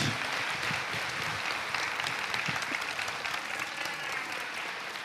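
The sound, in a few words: audience applause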